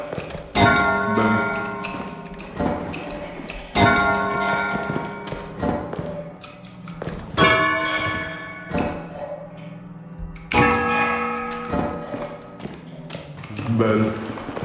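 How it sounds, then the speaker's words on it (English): Bell ringing in the video game Lethal Company, a series of metallic clangs with ringing overtones struck repeatedly at irregular intervals among thumps, loud and close, with voices talking over them. "Bell."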